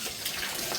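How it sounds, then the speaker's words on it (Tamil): Clothes being washed by hand with water give a brief, steady rush of splashing and sloshing, up close and fairly loud. "துணி துவைக்கிறேன்."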